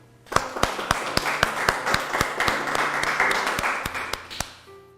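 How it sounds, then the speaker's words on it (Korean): A church congregation at a Sunday worship service in Gangnam claps in a steady rhythmic beat, around sixteen sharp, evenly spaced claps over a softer bed of scattered clapping that fades at the end. "우리 모두 참 어머님께 감사의 박수를 보내주시기 바랍니다"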